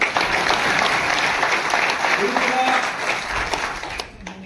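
Crowd of farmers and officials at a meeting with Delhi's chief minister breaking into sustained, dense clapping that stays loud for several seconds before tapering off at the end.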